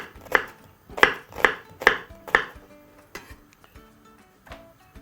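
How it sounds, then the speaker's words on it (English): Five crisp knife strokes on a cutting board, finely chopping a white onion in quick succession, then fainter, scattered taps, close by with no talking. "begin by chopping finely one white onion."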